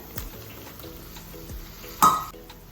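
Golden-fried onions with three medium tomatoes just added are stirred in a pan, giving soft scraping and clinks under a low sizzle, with one sharper metallic knock near the end.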